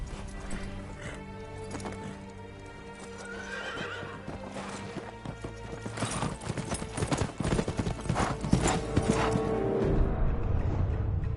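In Ghost of Tsushima, the horse Sora whinnies and its hooves clip-clop in a steady trotting rhythm, growing busier and louder over a music score, with brief speech.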